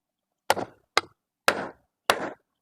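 A fan bushing is tapped into place with a socket block during a fan motor repair, four sharp, sparse knocks with short ringing decays, close and clear with no talk.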